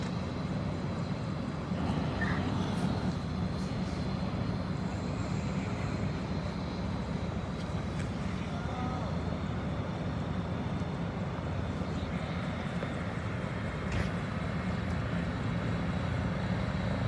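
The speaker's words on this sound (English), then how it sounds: "here comes helicopter number 2 in for a landing here on Highway 95" A helicopter coming in to land on Highway 95 at the scene of a motorcycle accident, heard as a steady, loud engine and rotor roar that holds throughout without a break.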